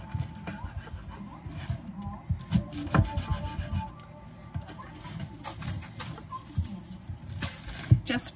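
Knife trimming the crisp edges of a freshly cooked chaffle, giving close, dry scratchy crunches in repeated short strokes with small sharp crackles between them.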